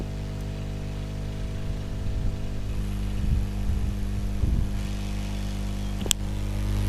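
A hot air gun heats the charging jack on a Samsung B313 phone, giving a steady loud blowing hum with faint handling clicks and a brief tick near the end, alone without talk.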